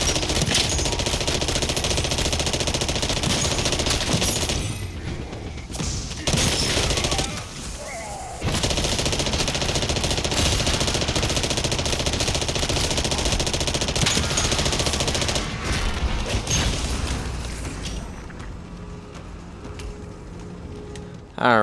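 Rapid hip-fire gunfire in a Call of Duty match, dense bursts of automatic shots with brief gaps and loud game effects, continuous and close throughout.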